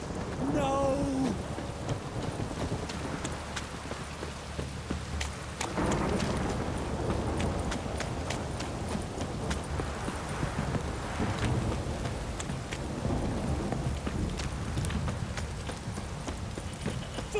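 Heavy rain pours steadily in The Witcher 3 video game with a deep rumble beneath it, while horse hooves clip-clop along through the downpour.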